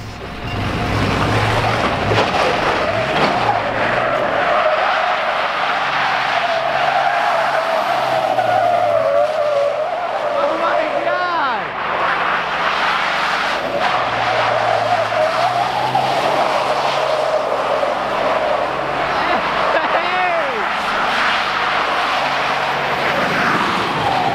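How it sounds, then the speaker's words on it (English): A Cummins diesel truck drifts with tires skidding and squealing continuously, engine droning loud and close alongside the long screech, with pitch wavering as the truck slides, no talk over it. "about to drift the Cummins"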